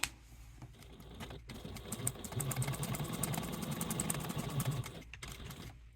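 A sewing machine stitches along a marked line on a mini card wallet, running as a steady mechanical whir of closely spaced needle strokes for several seconds, with a brief pause near the start and end.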